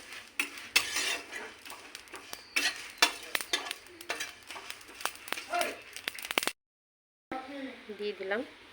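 Spices and chili are stirred and fried in a pan for a tamarind pickle, with a metal spoon clinking and scraping against the pan over a soft sizzle. After a brief pause, a voice is heard.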